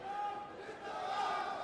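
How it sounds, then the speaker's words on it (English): A home crowd of boxing supporters cheering noisily at a World Boxing Cup bout, a dense sustained roar of shouting voices with a commentator talking over it. "Noisy supporters."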